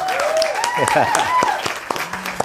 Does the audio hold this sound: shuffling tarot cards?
no